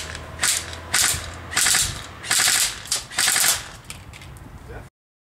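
A G&G FNC airsoft gun, about 350 feet per second and 800 rounds a minute on a 9.6 volt battery, fires five or six short rapid-fire bursts at goggles, loud and close, each burst a fast mechanical chatter.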